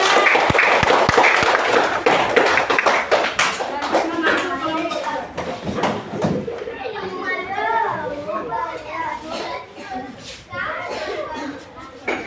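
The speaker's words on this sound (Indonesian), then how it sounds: "Dan tepuk tangan." Students in a classroom break into a burst of clapping that gradually fades, with a crowd of young voices chattering and talking over and after the applause.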